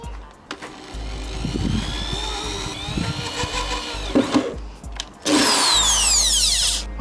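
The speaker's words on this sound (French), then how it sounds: "on va commencer par le gros perçage" A power drill bores a large 3-inch hole through the metal body of a Jeep Cherokee XJ, whining in a steady high drone with pauses and bursts, ending in a louder screeching stretch as the bit bites into the sheet metal.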